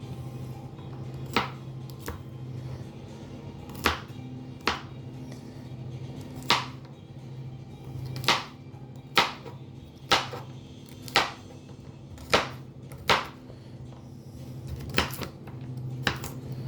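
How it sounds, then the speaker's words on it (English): Knife chopping and mincing garlic on a cutting board while cooking bulgogi fried rice, roughly a dozen sharp, close taps at an uneven pace over a steady background hum. "just try to mince it as best you can, but don't worry about it if you can't. Rough chopping is just fine."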